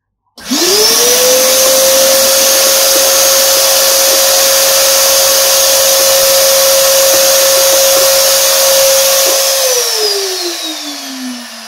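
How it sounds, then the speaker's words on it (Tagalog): Vacuum cleaner sucks dust out of the inside of a PS4 console, a loud steady whine switched on abruptly, holding for about nine seconds, then winding down as the motor stops; no talk. "Gumagamit ako ng vacuum para uh, hindi na lumipat yung mga alikabok niya."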